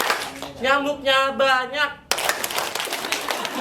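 Students at a school in Toli-toli, Central Sulawesi, play the Indonesian mosquito clap game: a chanted voice leads, then a sudden burst of many hands clapping rapidly together.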